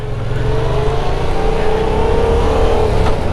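Yamaha MT-07 naked motorcycle pulling hard in first gear, its engine note climbing steadily in pitch as it revs up, loud and close, with steady wind and road noise and no talking.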